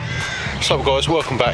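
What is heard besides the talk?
squawking birds, crows in background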